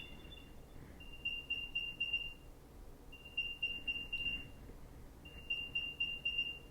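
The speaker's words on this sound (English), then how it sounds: "And as you can see, it's beeping again." A freshly factory-reset Apple AirTag plays its sound: three bursts of rapid, high chirping beeps spaced about a second apart, faint and thin against quiet room noise.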